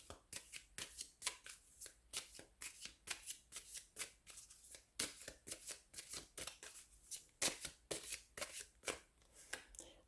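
Tarot cards being shuffled by hand in quick, crisp riffling bursts, a dense run of sharp flicks and slaps, close and fairly quiet with no talk.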